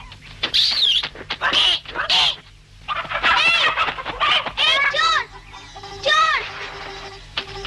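Cartoon chickens cluck and squawk in a run of loud, agitated bursts in the Meena cartoon, a steady low hum of background music beneath them.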